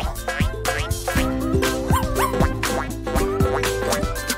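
A puppy gives a series of high yips and short barks, some whiny, in quick irregular bursts close by.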